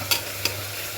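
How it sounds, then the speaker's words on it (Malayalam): Chopped onions frying in a pressure cooker get stirred, two quick scraping strokes of a spoon over a soft, steady sizzle, close and quiet. "നന്നായിട്ടൊന്ന് ഇളക്കി"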